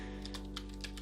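Keystrokes on a computer keyboard, a handful of light clicks spaced unevenly over one second, close and fairly faint over a steady low hum.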